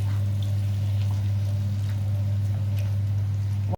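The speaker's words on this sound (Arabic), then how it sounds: "هنجيب لها كوبايه ميه عشان تبدا تستوي." A cup of water pours into minced meat in a pot, making a continuous splashing trickle over a strong steady hum that cuts off abruptly at the end.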